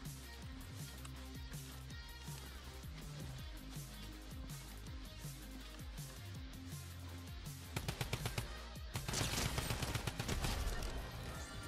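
A drum gun firing in Fortnite: scattered shots and game effects give way to a dense, rapid stream of automatic fire near the end, loud and close.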